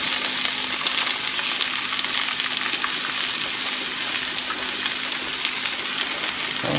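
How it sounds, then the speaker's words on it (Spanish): Onion frying in a pan while preparing potato and chicken soup, a loud, dense, unbroken sizzle close to the pan with no speech. "Voy a poner por aquí la cebolla."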